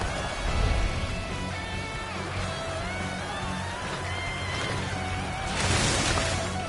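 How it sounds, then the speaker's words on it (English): A volley of arrows rains down in the Dynasty Warriors Origins battle game as a continuous, loud hissing rush over a low rumble, with a fresh surge of noise near the end. "Now, let your arrows rain down upon their heads."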